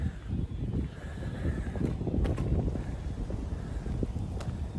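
Outdoors, wind buffets the microphone as a steady low rumble with gusts for several seconds, with no talk.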